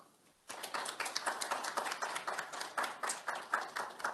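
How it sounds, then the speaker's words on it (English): An audience at a business MOU signing ceremony breaks into applause that starts abruptly and goes on as steady, dense clapping, moderately distant, with no talk. "이사장님께 다시 한번 큰 박수 부탁드립니다."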